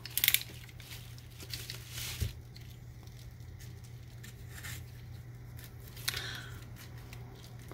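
Scissors snipping the packaging of a RØDE PSA1 swivel-mount studio microphone boom arm: a few quiet, close cuts and crinkles spread across a hushed indoor room, no talking.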